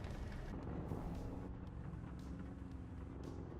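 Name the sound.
enemy tank engine, video game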